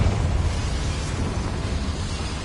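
A Confringo fire spell bursts in Hogwarts Legacy, a dense, sustained blast of rumbling, crackling noise that stays loud and steady throughout, with no voices over it.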